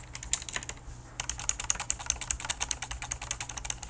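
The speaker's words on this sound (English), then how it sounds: "I'm just running my finger across the spacebar, and you can hear it make noise." A finger rattles along the spacebar of a mechanical keyboard whose stabilizers are unlubricated, giving a close, dense stream of sharp clicks and clacks after a short pause, heard without any voice.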